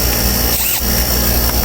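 A power drill whirs loudly and continuously at close range while polishing engine parts, with a brief dip in pitch partway through.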